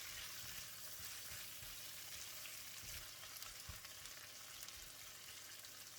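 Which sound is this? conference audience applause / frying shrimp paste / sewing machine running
frying shrimp paste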